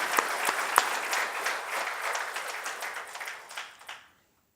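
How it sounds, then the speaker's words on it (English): A big round of applause from the audience at a Rededication Day gathering, brisk clapping that thins out and fades to silence near the end. "Let's give her a big round of applause for her presence"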